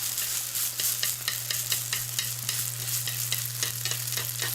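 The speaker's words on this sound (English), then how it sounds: "we just need sizzles and taps" Homemade Japanese okonomiyaki fries on a hot surface, giving a constant close sizzle broken by quick, regular spatula taps and scrapes. No voices are heard.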